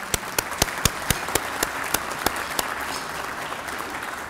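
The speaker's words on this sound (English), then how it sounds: "so I'd like to give them a round of applause." Audience applause at the HI-TEC 2010 conference keynote, a crowd of hands clapping steadily with sharp individual claps standing out early, then settling into an even wash that continues to the end.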